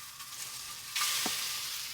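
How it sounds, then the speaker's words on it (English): Salmon squares sauté in a hot pan on a recteq Matador, a steady hiss that swells suddenly into a louder sizzle partway through, with one soft knock. "So the first thing we're gonna do is we're gonna saute our salmon."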